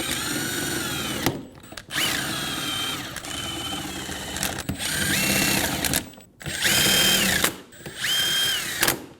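Cordless power tool spins bolts down onto a fan clutch on a 2019-2025 Ram 2500 6.7L, loud close whirring bursts in several runs with short pauses and rising pitch as each bolt seats.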